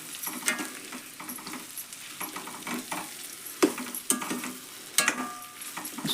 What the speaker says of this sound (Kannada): ಎಣ್ಣೆ ಒಳಗೆ ಅದು ಫ್ರೈ ಆಗಲಿ ರೀ.